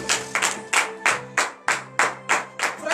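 A church congregation at a Beninese morning prayer claps in a steady rhythm, about eight to nine sharp beats under a sustained musical tone, loud and close.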